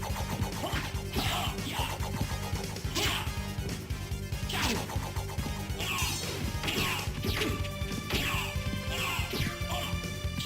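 Repeated heavy smashes and thwacks as a character is slammed against a wall in Symphony of the Night, sharp impacts recurring every second or so over game music, loud and close.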